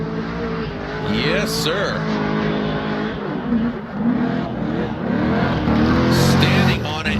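A supercharged V8-powered BMW drift car on Nitto tires runs a Formula Drift qualifying lap at Monroe, engine revving and wailing with rising and falling pitch and tire squeal, as an announcer talks over it.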